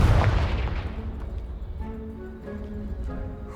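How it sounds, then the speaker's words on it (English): In the Hogwarts Legacy video game, a Confringo spell blasts a blocking pile, opening with a loud, deep booming explosion that fades into rumbling debris and softer settling sounds. "Someone piled this here for a reason. Is it blocking something? Only one way to find out."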